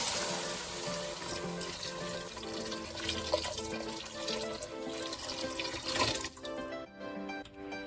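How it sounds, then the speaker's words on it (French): Water pours steadily into a cooking pot over pigeon peas, with a thyme sprig among them for a Creole stew, making a continuous splashing gurgle close by that cuts off near the end. "Maintenant, je vais couvrir d'eau."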